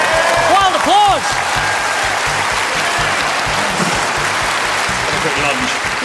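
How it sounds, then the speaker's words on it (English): A studio audience on a quiz show breaks into loud, sustained applause for a contestant, thick continuous clapping with a brief burst of cheering voices near the start. "Give him wild applause."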